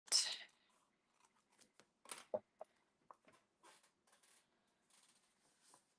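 Scissors trim sparkle overlay paper in quiet, sparse snips, a sharp cut first, then scattered soft clicks and rustles close by.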